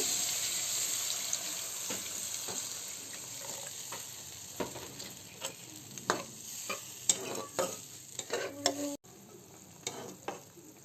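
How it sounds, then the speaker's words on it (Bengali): Cauliflower masala with a little added water being stir-fried in a pan for a koi fish curry: a continuous hiss and sizzle with repeated scraping and tapping strokes of a spoon that grow sharper and more frequent toward the end. "কিছুটা জল আমি দিয়ে দিয়েছি এখন এটাকে একটু কষিয়ে নিচ্ছি"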